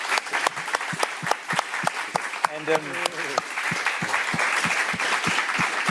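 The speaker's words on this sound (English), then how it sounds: "Let's thank Mark with an applause." Audience applause at the close of a public conversation about philosopher J.L. Austin, steady dense clapping that fills the room for several seconds, with a brief spoken word near the start.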